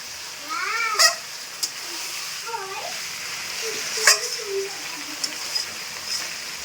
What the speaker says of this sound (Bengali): এখন আবারও একটু নাড়াচাড়া করা হচ্ছে মাংসটাকে